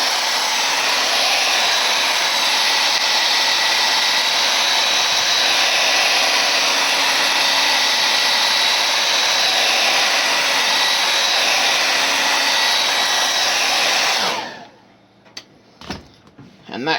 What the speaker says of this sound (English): We're going to blow dry this again, because I got one more shade I'm going to throw on this thing.